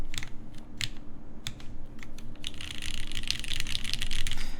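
Typing on a custom tenkeyless mechanical keyboard, a steady run of close, crisp keystroke clicks and clacks that grows denser and faster toward the end, heard alone without talk.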